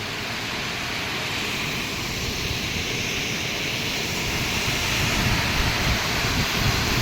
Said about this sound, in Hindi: तो ये रहा वो झरना और जहाँ से पानी आ रहा था ये रहा।